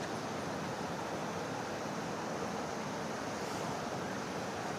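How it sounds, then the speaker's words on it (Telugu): A small waterfall at Jonnavalasa, Vizianagaram, running high after a cyclone, gives a continuous soft rushing hiss of flowing water, fairly faint and even, with no talking. "వాటర్ ఫ్లో ఎక్కువ ఉంది."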